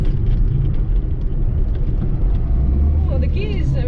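Austin Allegro car driving with its engine running, a low, steady rumble from inside the cabin under a voice speaking throughout.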